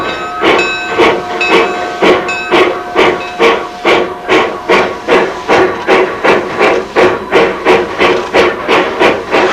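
A steam locomotive's cylinders take in steam, giving loud, regular chuffing bursts of hiss about twice a second, with a faint whistle-like tone near the start and no talking.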